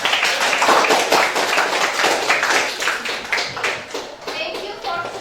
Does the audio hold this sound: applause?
yes